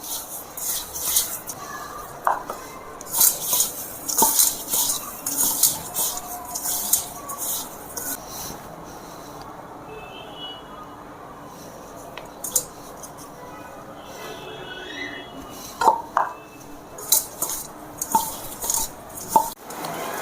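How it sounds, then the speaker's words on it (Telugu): Green and orange homemade rangoli colour powders mixed by hand in a small container, with light clinking and scraping taps that come in irregular clusters, some louder and some softer, and a few faint sounds in between. "గ్రీన్ కలర్ వేసాను ఇప్పుడు ఆరెంజ్ కలర్ ఈ రెండైతే మిక్స్ చేస్తున్నాను"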